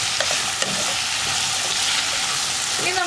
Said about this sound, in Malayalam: കോളിഫ്ലവറും കൂടി ചേർത്ത് വീണ്ടും 1 മിനിറ്റ് ഒന്ന് വഴറ്റിയെടുക്കുക.